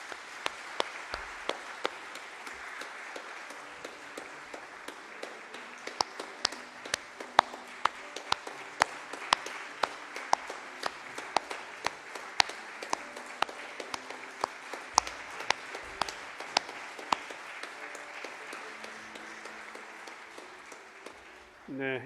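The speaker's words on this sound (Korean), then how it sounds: "박수로 여러분 축하해 주시기 바랍니다." A church congregation applauding at a pastors' ordination service, dense sustained clapping from a large crowd in a reverberant hall, even and moderate in level, continuing for over twenty seconds before fading.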